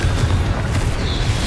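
A loud, low booming blast from the Confringo explosion spell in the Hogwarts Legacy video game, one dense rumbling burst that fills the whole moment.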